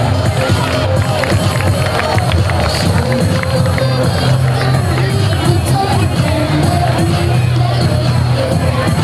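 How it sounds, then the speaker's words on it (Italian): Audience at a fashion show runway applauding with cheers and whoops, a dense, steady roar of clapping and crowd noise that stays loud throughout. "Ringraziamo Clelia con un applauso"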